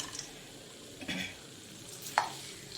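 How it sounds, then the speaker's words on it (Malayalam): Nuts stirred into a pan mixture for a healthy nut laddoo, giving a quiet, close soft scraping and a couple of light clinks and rattles over low background noise, without speech. "ഇനി നമ്മുടെ നട്ട്സ് എല്ലാം കൂടി ഇതിലോട്ട് നമുക്ക് ചേർത്ത് കൊടുക്കാം."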